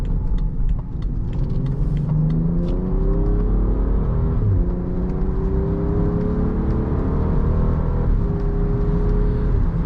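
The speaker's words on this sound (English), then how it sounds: "The exhaust sounds really good, and the shifts get really precise and snappy in those higher revs." A 2018 BMW X5 xDrive35i's exhaust revs hard with rising pitch sweeps as it accelerates through gears in sport mode, a loud, close, continuous rumble with no talking.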